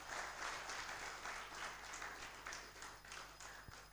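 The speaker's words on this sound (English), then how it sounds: "A round of applause for him, ladies and gentlemen." Quiet applause from an audience at a university engineering department's fiftieth anniversary launch, a steady, fairly distant patter of clapping that continues for the whole stretch.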